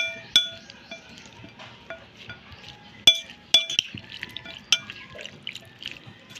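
Kinilaw of bolinaw being mixed with vinegar and seasoning in a bowl: a close, fairly quiet run of light clinks and wet drips, with a few sharper taps of utensil against the bowl scattered throughout.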